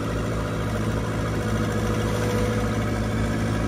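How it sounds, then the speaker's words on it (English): A combine harvester's engine idles steadily through its exhaust, a loud, continuous low rumble with a regular throb that holds close and unbroken throughout. "That was a beast of that exhaust."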